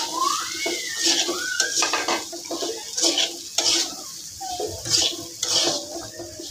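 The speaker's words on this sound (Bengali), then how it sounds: "তো মিষ্টি লাউটা দিয়ে নিতেছি।" Sweet gourd pieces are added to onions frying in a pan with turmeric and salt, giving a soft sizzle under repeated spoon scrapes and clinks against the pan in an uneven rhythm, close by and with no talking.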